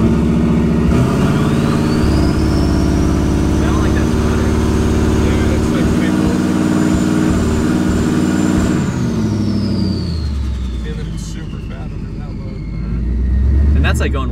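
A turbocharged Ford Crown Victoria engine revs hard toward wide open throttle, a loud sustained roar with a rising turbo whistle that cuts off and drops away, followed by a rough idle and a fresh rev at the end.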